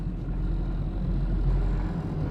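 A Nissan Micra K11 hatchback engine idles with a steady low rumble, close and unbroken, no voices.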